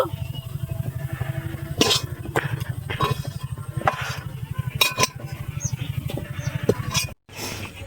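Cooked loitta fish is scraped out of a wok onto a plate, giving a low steady hum with sharp metal spatula scrapes and clinks at irregular intervals, close, and briefly cut off near the end.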